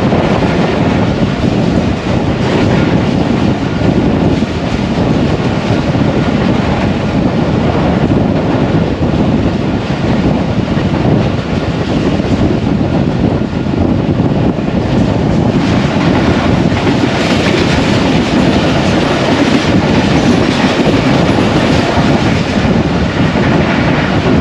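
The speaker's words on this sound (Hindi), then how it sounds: "कुछ ही देर में आमना सामना होगा 5 अप ग्रीन लाइन से, तो उसका थ्रू पास देखते हैं" A passenger train, the 5 Up Green Line, passes close by on a Pakistani railway line in rainy weather, a loud continuous rumble with wheel clatter and wind buffeting the microphone throughout.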